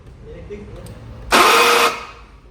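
Rebuilt Honda Civic engine in a workshop, a brief starter crank that bursts loud for about half a second and then fades, with a voice speaking before it.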